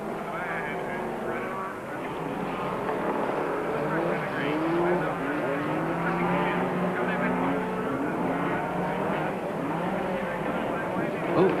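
Big super trucks race and slide across a watered-down, slippery dirt track, their engines roaring steadily and continuously with shifting revving pitch throughout, heard under steady race commentary.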